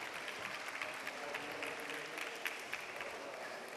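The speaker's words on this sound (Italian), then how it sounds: "Un bel applauso per i paggi!" An audience at a theatrical performance of Marco Polo gives a round of applause for the pages, steady many-handed clapping heard from a moderate distance, fairly quiet overall and continuous with no talk over it.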